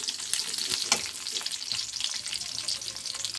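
Onions sizzle steadily while frying in a pan for a vegetable dish, with occasional soft scrapes of a spoon stirring them; the crackle is continuous and close, with no voices.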